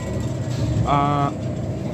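An Edinburgh tram rumbles along the line in a steady, moderately loud wash of rail noise, with a brief tonal whine or chime rising out of it midway.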